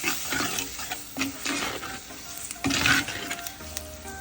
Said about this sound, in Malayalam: ഞാനൊരു ചെറിയ തക്കാളി ചേർക്കുന്നുണ്ട് മീൻ കറിക്കകത്തോട്ടെ. തക്കാളിയും കൂടെ ഒന്ന് വാടുന്നു വരട്ടെ.